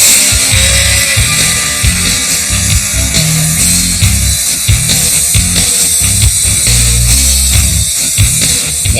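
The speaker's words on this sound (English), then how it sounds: "The new part is then sanded to remove steel burrs" Power sanding of a new steel part to strip welding burrs in an industrial washer and dryer factory, a loud continuous gritty grinding with uneven surges and scraping pulses throughout, no voices.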